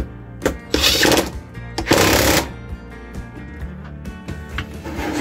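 An impact wrench tightens the nut on a Peugeot 103 moped variator in two short, loud, buzzing bursts close together, surrounded by lighter clicks and tool handling.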